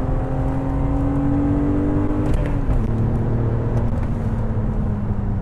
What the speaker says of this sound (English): That's 4th gear, hard on the brakes, back into 3rd, pitch it in, it just takes it.